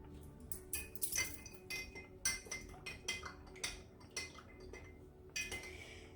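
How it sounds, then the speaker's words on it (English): A spoon stirs a Master Cleanse drink with cayenne pepper in a glass, making a series of irregular, bright clinks and taps against the glass, close up and distinct over quiet surroundings. "And stir until it's dissolved, because you want it fully dissolved."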